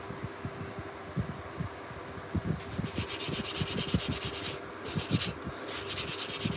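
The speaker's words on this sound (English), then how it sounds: "Sand the handle a little bit." A carved wooden spoon handle, made from storm-damaged wood, is sanded by hand in short rasping strokes, quiet and close, with no talking.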